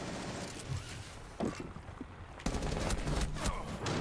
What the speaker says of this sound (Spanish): Le he disparado un centímetro por encima de su cabeza